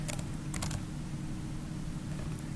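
Keys clatter on a computer keyboard in a quick burst of typing, then pause and resume faintly over a steady low hum, close and without speech.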